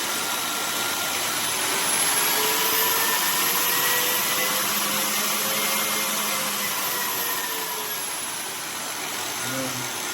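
A Gioventù 750W electric drywall sander with vacuum runs steadily and loudly nearby, its motor whine rising and falling slightly as the variable speed is adjusted, with a constant airy rush throughout.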